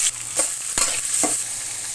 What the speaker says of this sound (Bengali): এখন আমি এর ভিতর দিয়ে দেবো কুচি করা পেঁয়াজ।